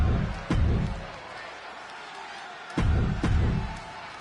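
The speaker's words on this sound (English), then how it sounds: "just listen to this crowd here in Chicago" Video game wrestling arena crowd in Chicago, a roaring murmur that swells in two loud bursts with sharp slam-like hits, dipping in between, under commentary talk.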